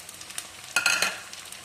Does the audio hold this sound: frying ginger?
yes